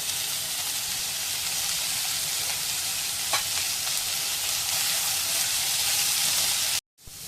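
Tomato and spices sizzle in a hot pan for Maharashtrian phodnicha bhaat, a steady close frying hiss with occasional stirring scrapes, cut off abruptly near the end.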